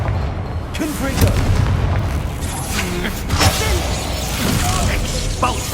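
A Confringo fire curse blasting in the game Hogwarts Legacy, heavy booming impacts and rumbling explosions layered over dense game sound, loud and continuous, with a voice speaking over the action.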